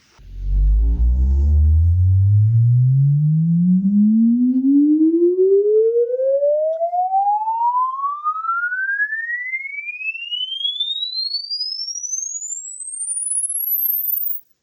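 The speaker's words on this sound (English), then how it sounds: "see what happens in the room as a response to that full sine wave sweep." A loud continuous sine wave sweep played in a home studio room rises smoothly in pitch from a deep rumble to a piercing high whine over about fourteen seconds, with faint harmonics trailing.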